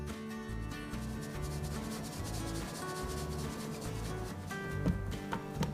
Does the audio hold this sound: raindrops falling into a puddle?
no